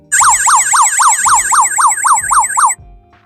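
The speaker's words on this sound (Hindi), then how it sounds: "ऑटोमेटिकली ये सायरन बजाने लगता है।" A loud, rapidly warbling electronic alarm siren from an HTC GD 801 Pro 4-in-1 gas monitor, triggered by abnormal oxygen concentration, wails continuously for several seconds, then cuts off abruptly, leaving faint low hum.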